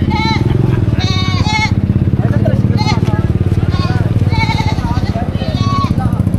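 Goats bleating repeatedly nearby at a livestock market, over a loud, constant engine rumble, with several overlapping wavering cries.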